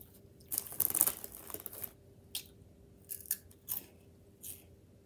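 Crunching from someone eating Cheetos, a string of crisp, close bursts that bunch together at first and then come as a few separate crunches, with no talking.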